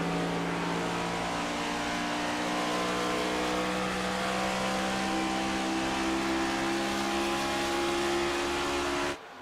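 Race cars from the iRacing Cup Series finale at Homestead roar steadily around the oval, a dense, sustained engine drone with layered whining harmonics that holds loud and close before cutting off abruptly at the end.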